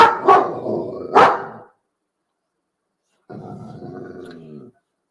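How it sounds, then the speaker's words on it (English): A dog barks twice in quick succession, close and loud, followed by silence and then a longer low growling grumble. "Don't start barking."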